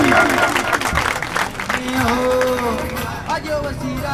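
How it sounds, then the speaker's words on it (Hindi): Crowd applause at an outdoor political rally for an independent candidate in Islamgarh, a steady wash of clapping and cheering with a voice speaking over it throughout. "इनके लिए भरपूर तालियां जी"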